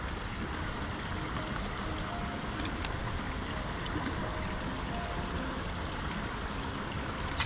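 A waterfall on a small trout stream gives a constant, dense rush of falling water that stays steady and close the whole time, with no voices.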